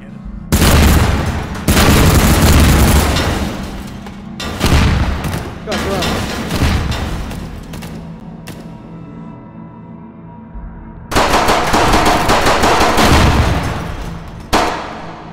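Full-auto gunfire in the VR shooter H3VR Take and Hold comes in long loud sustained bursts separated by short pauses, with a final short burst near the end.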